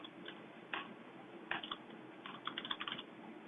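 Computer keyboard typing in short bursts of quick, close key clicks with brief pauses between, over a steady low background hum; no talking.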